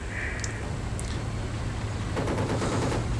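A tank's machine gun firing in Battlefield 1943, rapid continuous bursts of gunfire over a loud engine rumble, with no speech.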